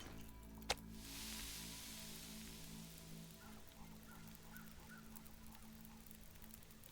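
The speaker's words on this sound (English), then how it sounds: "Well, that's a new bird noise." In the survival game Interloper, a faint bird calls with a short series of soft honking notes against a steady hiss of wind or rain, with one sharp click near the start.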